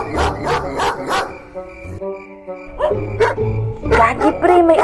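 A dog barks in quick bursts at a Christmas carolling outing, loud and close, with one short whimpering pause before the barking resumes; people talk and sing around it.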